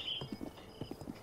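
Horse hooves clip-clopping in Breath of the Wild, a quick rhythmic run of hoof steps at moderate volume, heard alone over a faint high game tone.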